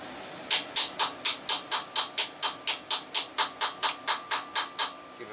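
A chisel tapped against a corroded, stuck engine distributor, about eighteen quick, evenly spaced sharp metallic strikes up close, with nothing else heard.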